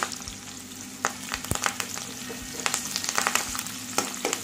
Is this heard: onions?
yes